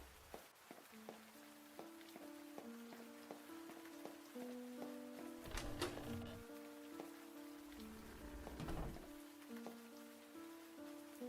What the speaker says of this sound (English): Why am I out here in the rain?